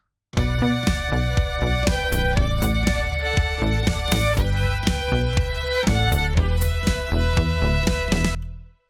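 Layered string-like synth melody plays with a bass line and a steady drum beat, continuous and fairly loud before stopping abruptly at the end.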